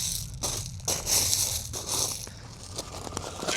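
Crushed stone hardcore is pushed and packed under a block, giving a run of gritty crunching and scraping close by with no talk.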